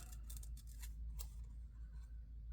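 Faint, quiet snips of scissors cutting out paper shapes for a book-themed journal land as a few scattered clicks over a low steady background hum.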